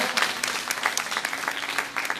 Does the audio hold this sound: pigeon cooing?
no